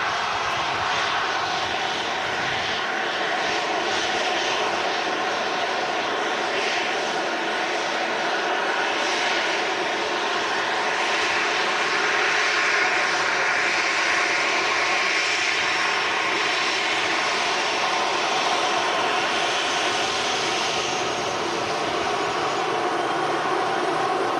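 An airliner rolls out at a windy Manchester Airport under full reverse thrust, a loud, sustained broadband engine roar holding steady for the whole stretch with no voices over it.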